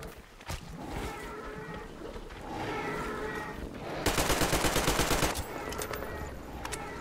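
Gunfire from the video game Metro Exodus, with scattered single shots followed by a loud, rapid automatic burst near the middle and a few more shots after, over game ambience with no talking.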